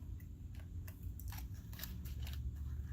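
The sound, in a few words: scissors cutting an Easter candy wrapper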